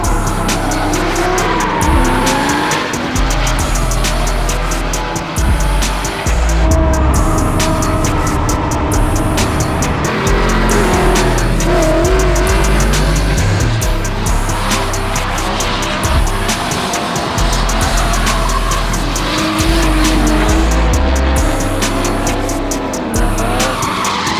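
Cars drift at a Cleetus McFarland's Freedom Factory drift event, including a Corvette and a stock Nissan 350Z, with loud revving engines and long tire squeals rising and falling across the run, up close and with no talk.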